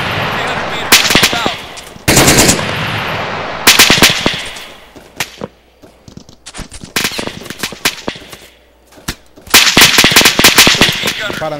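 Gunfire in the video game Arma 3, with loud bursts of automatic fire and single cracks coming in uneven clusters, some near and some farther off, with stretches of quieter gaps between.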